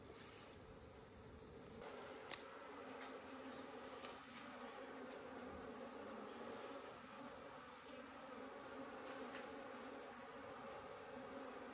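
Honey bees swarm around a hive as honeycomb is harvested after smoking, producing a dense, continuous buzz with occasional louder passes of single insects close to the listener and no talking.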